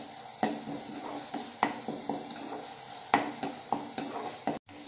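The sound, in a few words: ginger garlic paste cooking and stirred in pan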